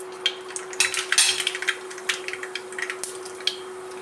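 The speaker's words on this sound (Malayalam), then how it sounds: "കുറച്ച് കടുക് പൊട്ടിക്കാം" Mustard seeds crackling and popping in hot oil, sharp irregular pops scattered over a faint steady hum.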